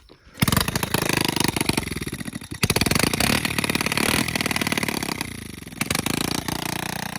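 A Yamaha TTR90 pit bike engine catches and runs: a brief quiet start gives way to a loud, close, buzzy small-engine drone with uneven revving and a short dip midway.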